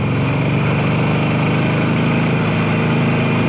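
A Harley-Davidson motorcycle engine runs steadily at a low, throbbing idle, loud and close, with a constant rumble and no pauses.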